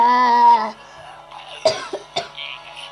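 A brief voiced sound gives way to a few sharp coughs in quick succession, close and fairly loud, then quiet.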